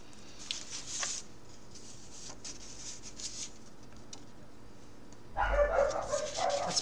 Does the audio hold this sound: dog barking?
yes